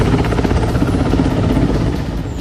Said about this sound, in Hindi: जो अपने MI-17 हेलीकॉप्टर के साथ पहुंचा और फिर शुरू हुआ